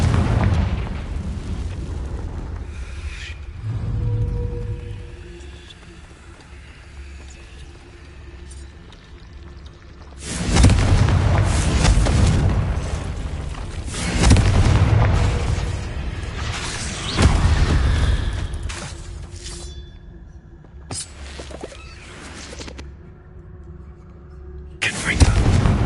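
Confringo and Bombarda spell blasts from the Hogwarts Legacy video game go off as several loud booming bursts spread through the clip, with quieter game ambience between them.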